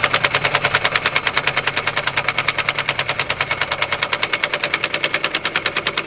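A battery impact gun running low on charge chugs rapidly while tightening subframe bolts on a Mazdaspeed3, a loud, fast, evenly pulsing hammering that carries on without pause.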